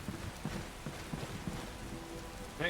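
Rain falls in the video game Skyrim, a soft, even patter of drops with faint low rumbles, steady and fairly quiet throughout.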